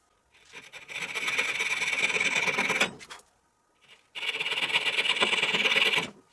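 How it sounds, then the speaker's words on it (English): A marquetry saw cuts away wood for a dovetail joint, giving two long, close rasping strokes of steady sawing separated by a brief pause. "And now I use a marquetry saw to get rid of the wood."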